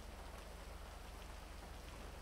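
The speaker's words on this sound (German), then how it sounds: "Wie das Wasser von den Dächern runterläuft" In a video game, rainwater runs off rooftops and splashes onto a car, a quiet, steady patter of drops with a faint rhythmic dripping underneath and no voices.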